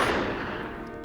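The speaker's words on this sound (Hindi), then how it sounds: "गोली चल रही है" A single loud gunshot from a dubbed action movie booms at the start and fades in a short, reverberant tail.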